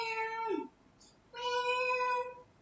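A cat gives two clear, close meows, the first short and the second longer and drawn out, separated by a brief pause in a quiet room.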